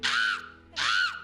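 A person's voice imitates a crow, giving two harsh, drawn-out cawing calls separated by a short pause, close and clear with a quiet background.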